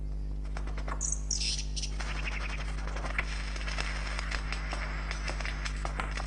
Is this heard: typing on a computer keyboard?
no